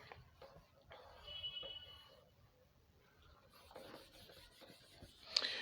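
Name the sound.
writing with a pen on paper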